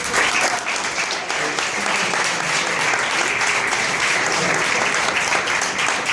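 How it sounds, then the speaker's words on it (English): An audience applauds loudly and steadily throughout, with dense clapping and a few faint voices mixed in. "you should give yourself another round of applause"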